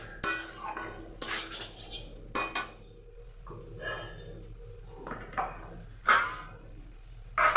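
A spatula clanks and scrapes in a pan as a potol, potato and tomato curry is stirred and cooked down, giving irregular metallic knocks and short scrapes over a quiet background.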